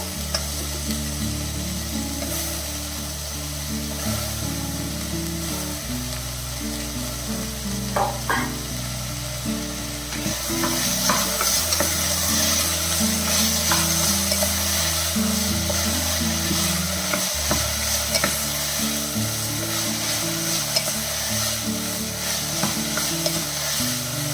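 Cleaned cauliflower pieces stir-fried in a hot pan, a continuous loud sizzle with scraping stirs that swells partway through as the florets hit the oil.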